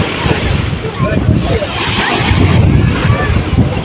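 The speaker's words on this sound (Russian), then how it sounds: "Почему-то после обеда снова пошли волны. Довольно-таки сильные." Strong afternoon sea waves surge against the shore at the Gelendzhik resort, with steady wind buffeting the microphone, a continuous close roar of surf filling the whole stretch without pause.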